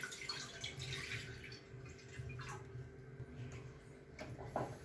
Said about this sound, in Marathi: त्यामध्ये पाणी ओतून घेऊया।